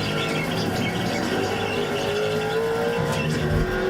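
Race cars in an iRacing GTC league sim race, including a pair of Miatas, drone steadily through a turn sequence with a continuous engine note and rising pitch, faint tire squeal mixed in near the end.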